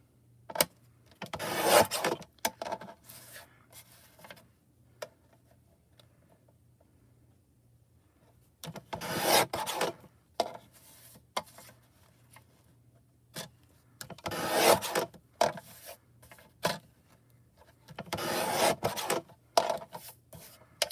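A stamped card is cut down to size, with bursts of rasping, scraping cuts separated by quiet pauses, close and moderately loud.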